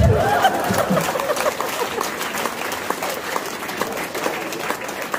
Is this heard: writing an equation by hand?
no